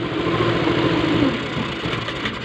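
A Honda Beat fuel-injected scooter engine kept running with the positive battery terminal disconnected, a steady mid-pitched idle with a slight throttle lift that then settles slightly lower, close and moderately loud.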